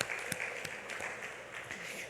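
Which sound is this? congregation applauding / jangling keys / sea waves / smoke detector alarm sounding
congregation applauding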